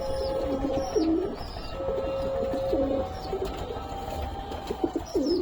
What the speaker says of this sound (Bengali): আর এখানে আছে আমার সমস্ত নর পায়রা।